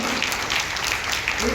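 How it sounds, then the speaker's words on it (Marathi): Applause from the audience at a one-act drama competition, a dense, steady wash of clapping that fills the whole moment with no clear break. "तर या तिन्ही स्पर्धेसाठी जोरदार टाळ्या झाल्या पाहिजे"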